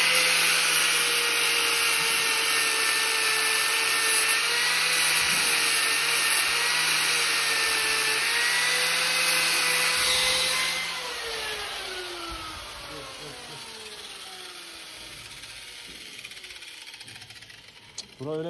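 An angle grinder trims the hoof of a dairy cow that is struggling to walk. Its loud, close, steady high whine runs for about eleven seconds, then the motor winds down and fades with a sliding pitch, leaving a quieter rumble.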